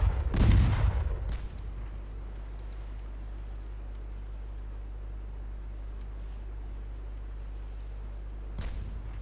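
A single heavy boom of a 7-inch naval gun in a naval battle game, loud and near at the start, then a low steady rumble with a fainter distant report near the end.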